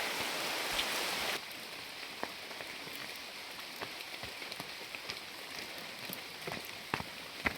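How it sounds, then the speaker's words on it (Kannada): Heavy rain pours steadily, with a dense rushing hiss that eases after the first second, leaving scattered sharp drips and splashes close by. "ಮಳೆ ಜೋರಾಗತೈತಿ"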